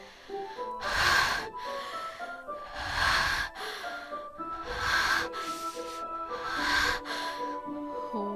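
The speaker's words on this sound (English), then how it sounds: "A sharp inhale, like someone sucking the air through their teeth." Four sharp, hissing inhales sucked through teeth in the horror visual novel Doki Doki Literature Club, spaced about two seconds apart, each a loud breathy burst standing alone against near silence.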